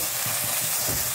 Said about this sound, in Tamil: இஞ்சி பூண்டு பேஸ்ட்டை நல்லா பொரிச்சு எடுத்துக்கலாம்